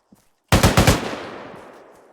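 A short, loud burst of about four rapid rifle shots rings out during a training session in the video game Squad, close and sharp, then an echoing tail that fades slowly.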